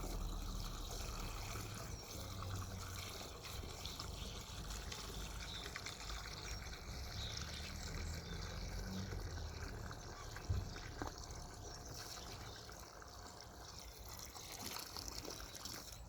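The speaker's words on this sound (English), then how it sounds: "Then we're going to pour in water." Water poured into a concrete-lined post hole for a shed build, a faint, steady trickling and gushing outdoors with a brief knock partway through.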